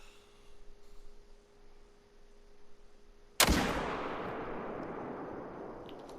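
A single loud rifle gunshot fired while hunting whitetail bucks on a lake, cracking sharply after quiet outdoor ambience and rolling away in a long, fading echo.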